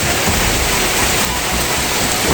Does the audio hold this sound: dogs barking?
no